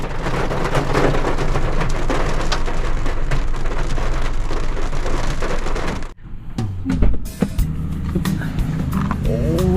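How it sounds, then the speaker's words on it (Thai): Heavy rain pours steadily and loudly at a seaside campsite at Suan Son Beach, Rayong, a dense hiss of drops on surfaces, then cuts to quieter patter with some nearby clatter. "ฝนตกหนักเลย"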